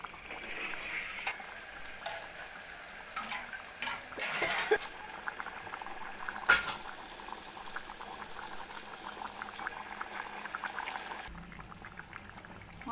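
A pot of fish curry (chepala pulusu) simmers on the stove, bubbling softly and steadily with occasional louder pops and a brief clink of utensils.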